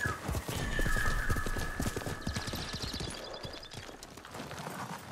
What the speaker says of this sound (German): Da reiten wir dann noch hin.